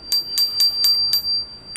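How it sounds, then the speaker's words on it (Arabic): A bell on an all-carbon bicycle rings in a quick series of six bright, close dings with a sustained metallic tone. "تاخد جرس"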